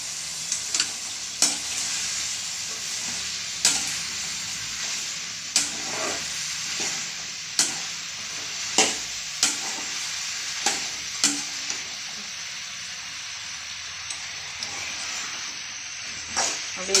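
Vegetables sauté in a pan for sambar with a constant close sizzle, and a spoon clinks and scrapes against the pan every second or two.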